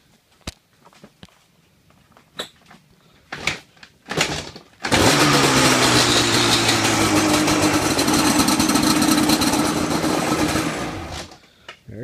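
A Banshee quad engine starts after a few clicks and knocks, then settles into a loud, close, buzzing two-stroke idle that runs steadily for several seconds before tapering slightly.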